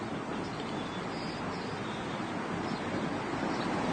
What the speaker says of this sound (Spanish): Consideremos, por ejemplo, este veloz arroyo de montaña.